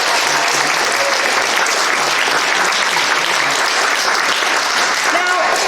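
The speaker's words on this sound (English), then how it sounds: "let's give all of them a round of applause" A school theater audience at a children's production of The Snow Queen gives sustained, loud applause that fills the room evenly, with faint voices and a cheer mixed into the clapping.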